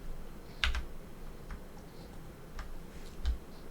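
Key presses on a computer keyboard during Blender sculpting come as a few sparse, quiet clicks with a sharper tap near the start and another near the end, over faint room hiss.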